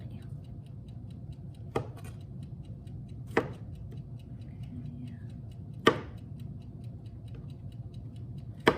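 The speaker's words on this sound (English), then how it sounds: "the larger florets, I'm just cutting in half so that they're not as big" A knife halving broccoli florets on a cutting board, giving four sparse, sharp taps spaced a couple of seconds apart over a low steady background hum.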